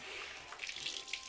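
Water poured over a baby's tummy during a bath, a soft continuous trickle and splash close by, fairly faint, with no voices.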